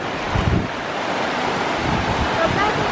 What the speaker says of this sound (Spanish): Ahí es donde cae el agua, hacia la cascada.